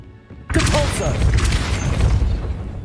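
Depulso spell cast in Hogwarts Legacy: after near quiet, a sudden loud booming blast bursts out and rolls on as a sustained rumbling roar, with a brief voice at its start.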